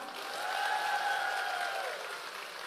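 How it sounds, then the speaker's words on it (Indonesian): A seminar audience at an Easter thanksgiving Mass gathering claps together for a few seconds, a soft, fairly distant patter that swells and then fades, with a faint steady tone underneath. "Yang setuju tepuk tangan."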